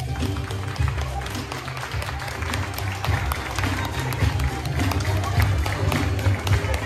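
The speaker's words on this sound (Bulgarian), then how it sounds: "И вашите силни аплодисменти" An audience at a school letters celebration claps steadily throughout, a dense patter of many hands with crowd noise underneath, fairly loud and close.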